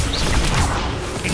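Incendio fire spell cast in Hogwarts Legacy: a loud, dense fiery whoosh and crackle that holds steady for about a second and a half with no pause.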